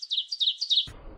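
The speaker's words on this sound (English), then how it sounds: "I hear the birds chirping." Outdoors, a small bird gives a quick run of bright, high chirps, close and clear over near silence before a soft rustle at the end.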